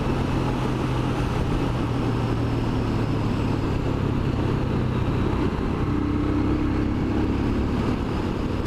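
Royal Enfield Scram motorcycle engine at about 62 mph and high revs, a steady droning hum with wind rush, constant and fairly close, no voice.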